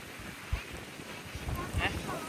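Strong wind buffets the microphone at a beach in Port Dickson, a steady broadband roar with low gusty thumps throughout, while faint voices murmur beneath it.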